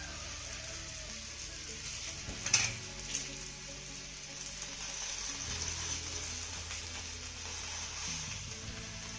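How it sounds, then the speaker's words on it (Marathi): Garlic potatoes roasting on an iron griddle give a soft, even sizzle and crackle, fairly quiet and close, with a brief knock near the start and no voices. "आपला हा बटाटा एका बाजूने छान असा खरपूस भाजून झालेला आहे आता त्या बाजूने सुद्धा आपल्याला बटाटा छान असा खरपूस भाजून घ्यायचा आहे"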